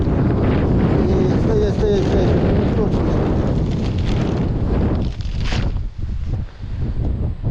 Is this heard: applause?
no